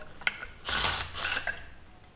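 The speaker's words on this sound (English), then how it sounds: "Back your nut off," A ratchet backs off the retaining nut while a valve spring is changed with the cylinder heads still on. A short burst of clicks is heard close by, then a longer run of ratcheting, with no talk.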